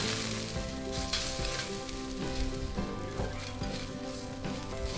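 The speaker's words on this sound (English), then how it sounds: "all of that dripping going on underneath and sizzling" Steady close sizzling and crackling of chicken on a fire grill, with fat popping and dripping in a continuous hiss.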